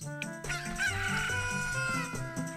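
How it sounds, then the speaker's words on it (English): A chicken crowing in Zelda: Ocarina of Time, a loud cock-a-doodle-doo call heard over a game music backing. "There's a chicken crowing"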